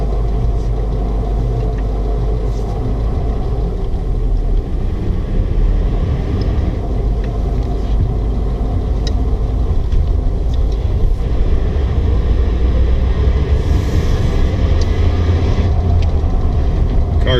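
1937 Packard Super 8 Victoria Coupe with a floor-shifted three-speed, heard from inside on a drive: a steady low engine rumble and road noise that carries on evenly throughout.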